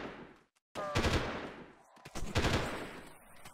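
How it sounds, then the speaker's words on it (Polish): Bursts of automatic gunfire from a teammate shooting through a wall in the Delta Force video game, two loud volleys separated by a brief gap, trailing off into quieter firing. "To jest alfa, który strzela w tamtą stronę"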